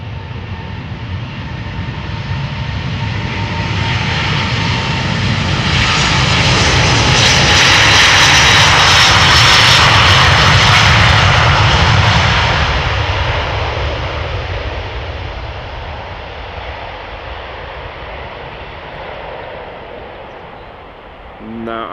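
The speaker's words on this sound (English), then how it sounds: "This is a Neo. Delta Airlines Flight 57." A Delta Air Lines Airbus Neo jet airliner, about a year old, passes at Amsterdam Schiphol. Its engine roar grows loud, peaks in the middle, then slowly fades away over about twenty seconds.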